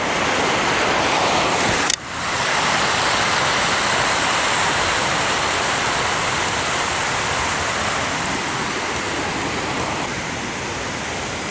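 A river rushes beside a mountain road in Hinohara village, Tokyo, a steady close wash of flowing water that fills the whole stretch, with a brief knock partway through and a slight easing near the end.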